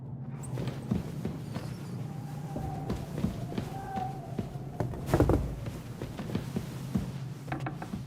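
Horse hooves in Kingdom Come: Deliverance II, a steady run of soft clip-clop footfalls on the ground with creaking tack and a few sharper knocks, continuous and at moderate distance.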